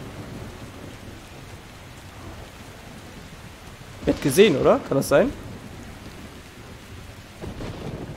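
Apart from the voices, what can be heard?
thunderstorm with rain in the video game Metro Exodus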